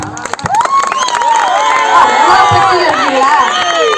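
A comedy show audience roars loudly, with many voices shouting and cheering together close by and some clapping mixed into the sustained crowd noise.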